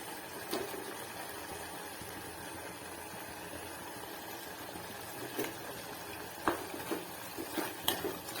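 Orange peel frying in a pan with Maggi masala and coriander leaves makes a faint, steady sizzle, with a few soft spatula clinks near the end.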